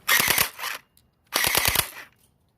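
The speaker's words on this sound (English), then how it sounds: "And if I shoot at the fence, you'll hear it." Two quick bursts of airsoft BBs clatter against a fence, each a rapid sharp rattle of hits, close and distinct with a short silence between.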